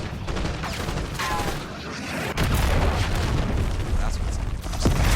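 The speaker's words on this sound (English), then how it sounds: "oh, Hellstorm missiles." Hellstorm missile strikes in the Black Ops 6 video game: heavy rumbling explosions with a sudden loud boom midway, followed by sustained roaring blasts, with someone talking over the noise.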